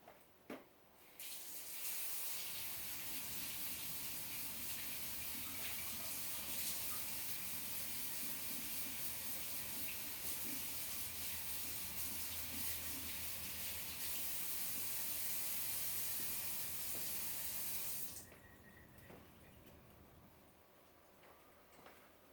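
A tap runs full while something is washed, a broad steady rushing hiss that starts abruptly, holds for about seventeen seconds with faint splashing changes, then cuts off.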